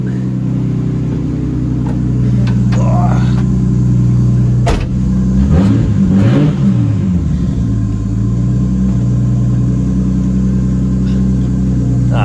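Nissan Skyline R33 with an RB25DET engine idling loudly up close, with a sharp click and a couple of revs rising and falling in the middle before settling back to a steady rumbling idle.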